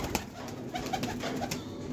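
A Kasuri pigeon hen coos quietly at close range amid background noise, with short, soft calls repeating every half second or so.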